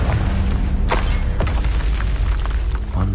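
A Confringo spell bursts in Hogwarts Legacy with a loud, heavy boom and a crackling blast. Several sharp impacts follow over a rumbling low roar, close and dominant, with no speech.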